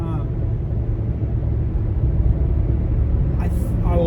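Ford Mustang Mach 1 engine and exhaust giving a steady, deep low rumble at idle, close and continuous, with a brief higher sound near the end.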